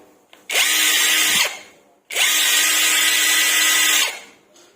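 A cordless impact wrench on a 10C battery whirs at high speed in two sustained bursts of about a second and two seconds, each spinning up sharply and winding down, close and loud.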